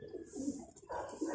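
Young pigeons coo softly in a loft in the Rizal area, low rolling calls in two or three short phrases, fairly faint against a light background hiss.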